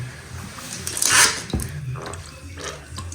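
PVA is poured into a wet plaster mix, giving a soft liquid splash and squelch, loudest near the middle, then a sharp knock and a few small wet drips.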